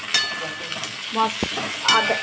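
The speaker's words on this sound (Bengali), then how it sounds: "রসুনটা আর পেঁয়াজটা ভেজে নেওয়ার পরে আমি একটু টমেটো দিয়ে দিলাম" Tomatoes go into a pan of frying garlic and onion, producing a close, even sizzle with a few brief stirring knocks and scrapes, no talk over it.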